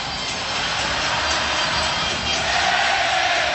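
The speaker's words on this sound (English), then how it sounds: "And the crowd delighting in his exit." A basketball arena crowd roars loudly and steadily as Stephen Curry leaves the court during the NBA Finals, a dense wash of cheering and shouting with no break.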